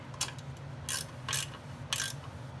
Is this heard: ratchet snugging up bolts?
yes